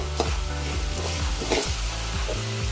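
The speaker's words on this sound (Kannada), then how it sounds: "ಇದು ಫುಲ್ ಫ್ರೈ ಆಗೋವರೆಗೆ ಎಣ್ಣೆ ಹಾಕದೇನೆ ಹುರಿಬೇಕು" Bitter gourd dry-roasts in a pan without oil, a close, steady sizzle broken by scraping stirs of a spatula, alone without speech.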